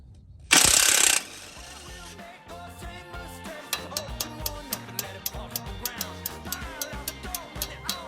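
A hand ratchet with a 22 mm socket loosens the shock absorber bolt on a second-generation Toyota Sequoia, giving a run of sharp, evenly spaced clicks after an initial loud burst, close and without talk.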